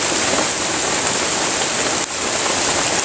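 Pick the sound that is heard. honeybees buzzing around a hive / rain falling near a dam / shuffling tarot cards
rain falling near a dam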